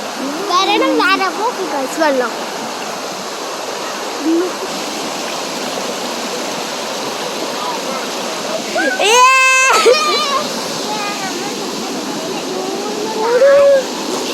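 Water flowing at a flooded rock quarry in Kerala, a steady broad rush and splash running throughout, with children and adults talking and calling out over it.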